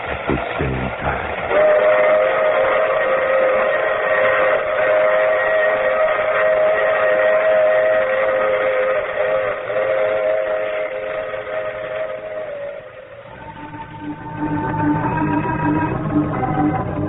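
A steam train rumbles along steadily in an old radio drama while a long whistle sounds over the clatter. Further whistle blasts and rolling carriage noise come near the end, with no voices.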